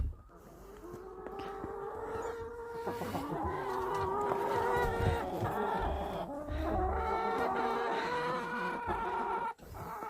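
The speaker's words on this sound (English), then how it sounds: "I thought I would show you what's been going on with the chickens." Chickens clucking inside a coop, a continuous overlapping chorus of close, moderately loud clucks and trills with no talking.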